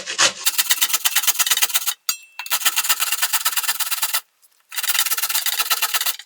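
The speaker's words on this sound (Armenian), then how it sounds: "Դե ավելի մանրով եմ քերում," Cucumber is rubbed against a fine grater in quick, even rasping strokes. Three close stretches of scraping are separated by short pauses.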